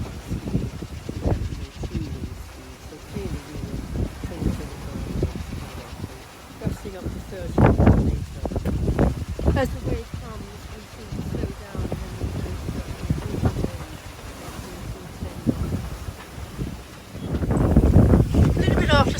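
Strong gusting wind buffets a sailboat out on rough open sea, rushing and roaring in surges with flapping bursts, while a person speaks over it.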